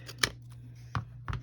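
Scissors snipping along a paper edge while held upside down to make a scalloped journal-page border, three short crisp cuts spaced apart over a steady low hum.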